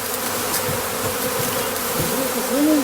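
Honey bees buzz and fan at the entrance of a hive, a loud, dense, continuous drone from many insects close by, with one nearer bee's pitch briefly rising toward the end.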